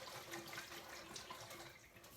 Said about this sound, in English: I'm washing my walnuts in this with this simple technique